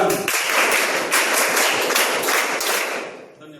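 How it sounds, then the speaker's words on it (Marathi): A group of school students in a classroom clap loudly together for themselves, a dense, sustained burst of many hands with a faint rhythmic pulse that fades out at the end. "सर्वांनी स्वतःसाठी जोरदार टाळ्या वाजवायच्या."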